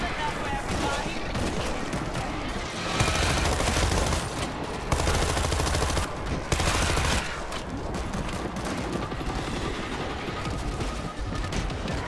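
Sustained rapid gunfire rattles in dense bursts throughout a World War Z zombie-shooter firefight, with heavier booming volleys mixed in and voices shouting underneath the shooting.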